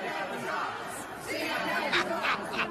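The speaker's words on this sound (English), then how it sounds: "Trump crowd here in Tampa, Florida, they're saying things like CNN sucks" A Trump rally crowd in Tampa, Florida, chants and shouts at CNN. The dense, loud roar of many voices runs steadily throughout, with rhythmic shouted bursts near the end.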